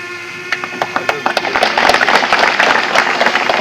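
Audience applause at a school cultural programme staged by an Indian Army brigade in Poonch, starting as scattered individual claps and swelling into dense, sustained clapping from a sizeable crowd, with faint voices beneath.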